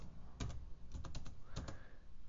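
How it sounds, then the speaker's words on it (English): Several quick, soft keystrokes tap on a computer keyboard in short bursts with small pauses between them, close by and alone with no voices. "Okay, so I'm gonna type in McDonald's"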